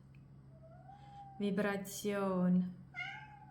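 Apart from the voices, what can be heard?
cat meowing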